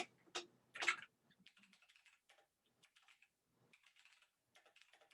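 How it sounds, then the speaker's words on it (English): Quick, light keyboard typing in short irregular bursts, with a couple of louder key clacks at the start and quiet pauses between runs. "Let's see if I can type it."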